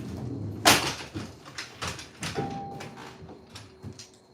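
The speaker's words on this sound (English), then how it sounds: "close my door." A door is pulled shut in an off-grid workshop, giving one sharp close-up bang followed by quieter rattles, knocks and a brief mechanical hum, with no speech over it.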